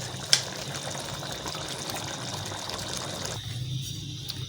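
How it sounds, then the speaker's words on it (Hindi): Water pours steadily into fried masala for matka biryani, a continuous close gushing fill with a small clink near the start, ending with a slight drop in the flow. "मसाला भूनने के बाद पानी शामिल करके और उसको हल्की आंच पे ढक्कन दे के"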